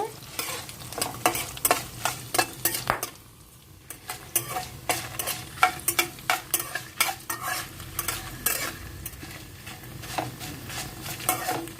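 Dried red chillies fry in a pan while a spatula stirs them, with sharp, rhythmic scraping strikes over a constant sizzle. Stirring pauses briefly near the start, and no one speaks.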